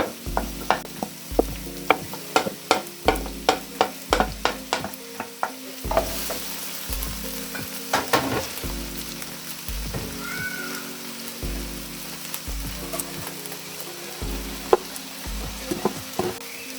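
Onions, chilies and mixed vegetables sizzling in a pan for vegetable samosa filling, with a steady frying hiss and regular scraping strokes of a spoon as they are stirred, close and alone.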